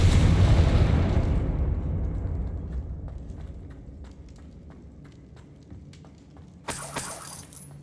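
A Confringo blasting spell explodes in the video game Hogwarts Legacy, a heavy booming burst that rumbles and slowly fades, followed by scattered debris clatters and a sharp crackling impact near the end.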